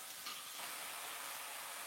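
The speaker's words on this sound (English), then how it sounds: "By frying up the ginger and garlic, by frying up the sambal" Ginger, garlic and sambal fry in a pan, giving a steady, even sizzle with no pauses, close and fairly quiet, with no talking.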